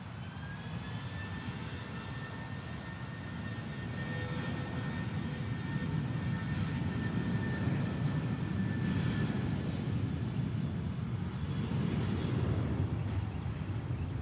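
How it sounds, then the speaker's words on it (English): An American Airlines Airbus A319-100, 21 years old, roars steadily at an airport with a broad jet-engine rumble that swells slightly louder partway through, with no talking. "It's a 21-year-old Airbus A319-100."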